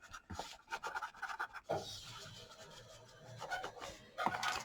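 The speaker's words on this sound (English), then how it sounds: "I'm going to put my hands in there and just kind of rub it together so it sticks together." Hands rub craft material together to make it stick, giving a steady, close rasping and scratching texture in uneven strokes without any talk.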